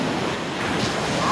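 Ocean surf rolling onto a beach where people are surf fishing, a steady broad wash of breaking waves with wind noise, continuous and fairly loud, no voices.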